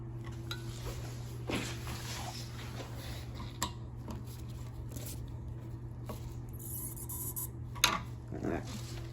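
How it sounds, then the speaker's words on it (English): A screwdriver tightens screws during assembly of a Home Depot toilet, giving faint rasping, scraping turns and a few small metallic clicks over a steady low hum, close and quiet. "you're going to go ahead and torque down your screws here. You can use either Phillips or a flathead."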